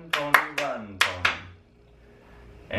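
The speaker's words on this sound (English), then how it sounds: "So it sounds like this with clapping." Hand claps tapping out the Run Pony rhythm, a quick pattern of sharp claps in pairs, close and clear in a quiet room, ending with a faint noise.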